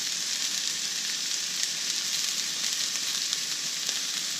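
Scallions and onion frying in an oiled pan, a steady dense sizzle running continuously at close range without letting up, with faint crackles scattered through it.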